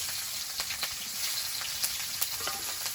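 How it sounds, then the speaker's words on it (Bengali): Nigella seeds and green chili sizzle in hot oil left over from frying fish, a steady close crackling hiss with scattered sharp pops throughout. "তো তেলের মধ্যে দেবো একটু কালো জিরে,"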